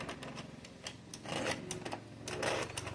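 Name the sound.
ADDI 46 knitting machine knitting rows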